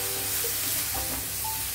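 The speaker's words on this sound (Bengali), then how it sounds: "চালটাও একটু মশলার মধ্যে প্রথমে কষিয়ে নেবো ভালো করে, হালকা হাতে এইভাবে কষিয়ে নিতে হবে।" Rice stirred into spices in a hot pan gives a steady, close sizzle and fry with faint stirring scrapes throughout, no talk.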